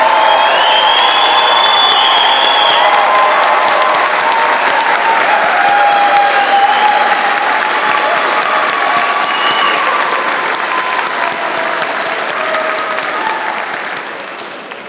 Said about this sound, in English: Graduates, a round of applause for family and friends.